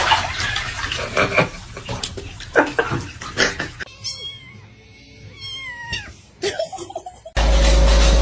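A cat meows and yowls loudly and close, drawn-out wavering cries amid splashing water and clatter, ending in a burst of steady noise.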